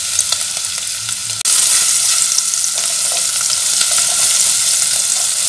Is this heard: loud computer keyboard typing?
no